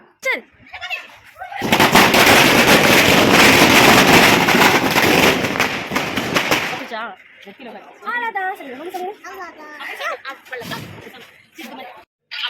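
Diwali firecrackers go off in a long, loud burst of rapid crackling bangs lasting several seconds, followed by excited voices and laughter nearby.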